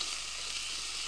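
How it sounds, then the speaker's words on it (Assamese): Garlic paste fries with browned onions and green chillies in hot oil, a close, steady hissing sizzle that holds evenly throughout without talk. "পিঁয়াজখিনি ভজা হৈছে, নহৰু পিছাখিনি দি সেইখিনি অকণমান ভাজি ল'ম"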